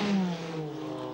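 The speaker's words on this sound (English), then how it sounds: "And a great rumbling V8 engine." Rumbling V8 race car engine at the 1994 Le Mans race, a short loud roar with a falling pitch as it passes.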